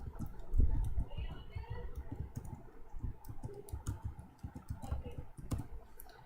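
C++ code is typed on a computer keyboard in quick irregular bursts of clicks, close and fairly soft, with someone speaking over the tapping.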